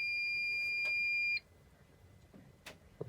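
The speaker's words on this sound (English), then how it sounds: "The warning buzzer of the instrument cluster is actuated for a period of 1, 5." A Mercedes Sprinter T1N instrument cluster warning buzzer, triggered by a Star Diagnostic system, sounds a steady piercing electronic tone for about a second and a half, then cuts off, leaving faint quiet background with a few small clicks.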